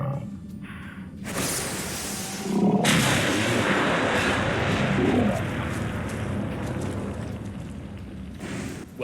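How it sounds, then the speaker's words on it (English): Heavy explosive blasts from a Fat Man launcher firing MIRV mini nukes in Fallout 4 boom and roar in a long, rumbling wall of sound, with a sharp onset and a sustained thundering tail. "I'll be using a fat man with a MIRV launcher and sending 6 mini nukes right into Oswald's face the moment he appears in the theater"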